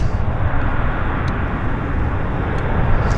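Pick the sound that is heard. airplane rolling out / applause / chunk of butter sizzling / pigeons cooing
airplane rolling out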